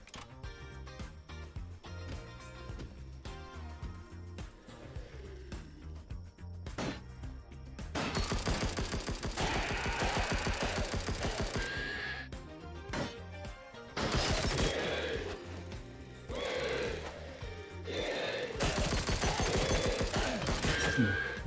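Turret gunfire in Dysmantle, rapid bursts of mechanical shots crackling in dense volleys with brief pauses between, loud and continuous over game sound effects.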